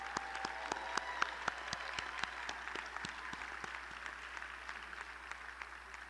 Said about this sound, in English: Would the grandparents of our candidates please stand and receive our applause?